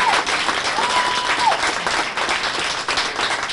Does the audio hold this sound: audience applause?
yes